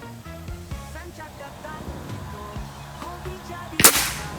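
A PCP air rifle shot striking an iron target on a shooting range: one sharp, loud metallic crack near the end, following quieter background sound and low murmur.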